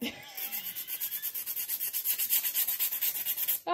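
A new nail file scoring the edges of freshly applied acrylic nails, a fast, steady rhythm of close, scratchy rasping strokes, about six per second, with no talking.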